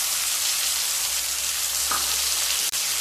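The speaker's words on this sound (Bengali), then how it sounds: "পেঁয়াজ দিয়ে আবারও হালকা ভেজে নেব" Two medium-sized onions fry in a pan for a mango-and-snakehead-fish dish, making a steady, close sizzle with a soft hiss. There is one brief click near the end and no talk.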